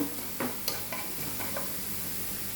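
Ragi grains roasting dry in a frying pan, giving a faint steady sizzle with a few soft scraping stirs near the start, no voices.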